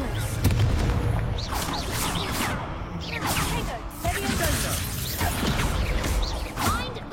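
Blasting-spell explosions in a video game burst out amid a busy, chaotic mix of booms and whooshing effects, loud and continuous, with voices talking over the action.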